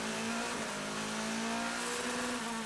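Race cars at the WEC 6 Hours of Circuit of the Americas, a loud, continuous engine roar with a sustained high tone that climbs and sweeps as the cars pass close by.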